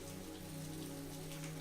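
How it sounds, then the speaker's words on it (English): Heavy rain pours outside in a steady, dense patter with no pauses, and a faint low hum sits beneath it. "Oh, Lily, it's pouring outside."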